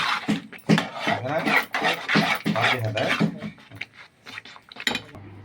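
Plates and dishes are set down in a home kitchen, with occasional clinks and scrapes of crockery and cutlery heard under someone talking.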